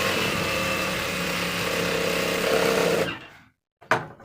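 A sewing machine runs a straight seam along a pant belt, whirring loudly and steadily for about three seconds before it winds down and stops, followed by a short burst of machine noise.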